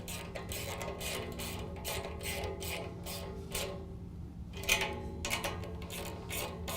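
Nut on a Jeep JK fog light housing being tightened with a ratcheting tool, giving repeated short rasping clicks in bursts, fairly close and moderate, followed by a few metallic taps, with no talking.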